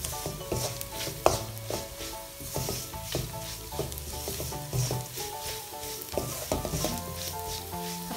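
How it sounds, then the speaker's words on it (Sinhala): Prawns and dried shrimp fry in chili paste with a close, steady sizzle, while a spoon stirs and scrapes the pan in irregular knocks and clinks throughout. "අපි ඉස්සෝ ටික කූනිසෝ ටික මේකට එකතු කරගමු. එකත් හොඳට කවලම් කරගමු."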